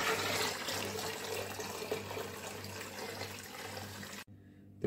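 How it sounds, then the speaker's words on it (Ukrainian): Boiled water pours steadily into a bucket already holding cold water for homemade kvass, a continuous, close splashing rush that stops abruptly near the end. "І зараз я сюди налью ще 5 літрів кип'яченої."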